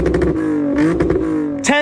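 A car engine fitted with an axle-back exhaust and high-flow resonators gives several quick, loud revving blips, then a sustained droning rev with a final sharp burst, close up with no talking.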